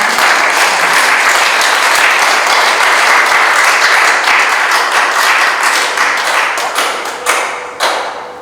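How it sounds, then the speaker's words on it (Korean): An audience at a solo art exhibition applauds with dense, loud clapping held for several seconds, then fades to a few scattered claps. "박수 한번 쳐주십시오"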